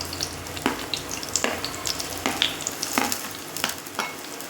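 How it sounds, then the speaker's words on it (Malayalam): Chopped shallots sizzle in hot coconut oil in a pan, a constant frying hiss broken by sharp, crackling bursts of stirring every second or so, close and clear with no talking. "അതിലേക്ക് നമുക്ക് അരിഞ്ഞ് വെച്ചേക്കണ ചുവന്നുള്ളി ഇട്ട് കൊടുക്കാം."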